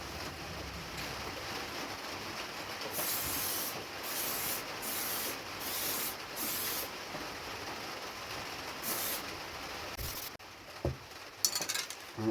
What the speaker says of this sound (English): We're just going to spray the blade of it some gloss aluminium.